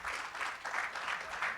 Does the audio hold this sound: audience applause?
yes